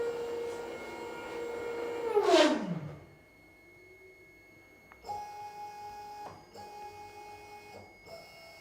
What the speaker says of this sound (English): During the auto squaring procedure, SmartBench will make a stalling noise.